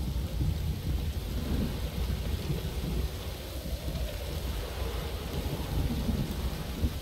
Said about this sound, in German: Ein Sturm, verdammt.